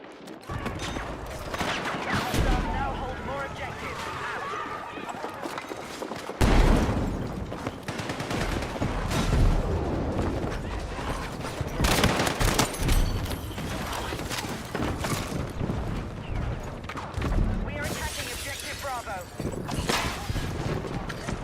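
Light machine gun fire in Battlefield 6, bursts of rapid gunfire and battle noise that keep coming back, loud and close, over dense game sounds, with someone talking over it at points.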